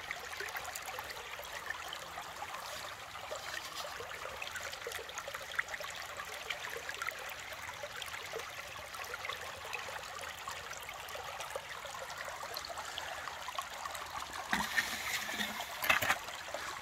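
Water rushes and trickles steadily through a gold sluice in a stream outdoors, a constant flowing wash with a few louder splashes near the end.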